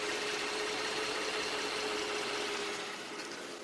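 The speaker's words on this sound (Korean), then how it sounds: "엔진 소음 먼저 들려드리면은" A Kia K9 3.3 GDI petrol V6 with about 80,000 km idles very quietly under the open hood, a faint steady hum with a thin constant whine and no talk.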